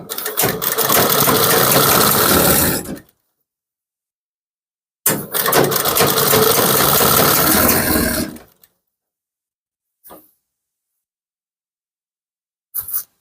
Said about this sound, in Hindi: इसके आर्मोल पर हम डबल सिलाई लगा लेते हैं।